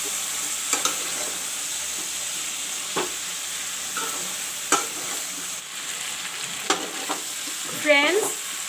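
Masala frying in a pan with drumstick and potato pieces, a soft steady sizzle with occasional sharp clicks and scrapes of stirring, close up; a brief squeaky tone sounds near the end.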